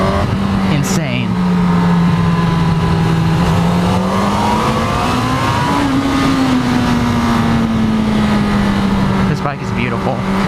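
A 2018 Honda CB1000R motorcycle accelerating hard on mountain streets, its engine drone climbing steadily in pitch and staying loud and close, with a brief gear change near the middle and a rider's voice speaking over it.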